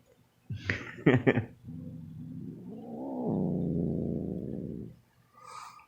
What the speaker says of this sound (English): Do you hear that? He growls.